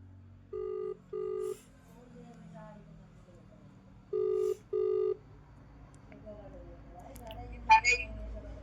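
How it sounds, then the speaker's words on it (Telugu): Outgoing phone call ringback: four steady ringing tones in two paired bursts, moderately loud over a low background hum, with a brief louder rustle near the end. "ఇప్పుడు మనం అన్నకు ఫోన్ చేద్దాం,"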